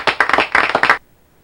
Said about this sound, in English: Oh, wow, I got an applause.